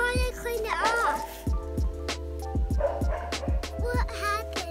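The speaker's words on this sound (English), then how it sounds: "The dog is going crazy like usual." An excited dog barks in a rapid run of sharp, loud yips and woofs close by, with people talking over and between the barks.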